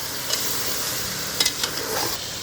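Tomato puree being stirred into beef frying in a pot, a steady loud sizzle with a few brief spoon scrapes and clicks, close and continuous, no speech.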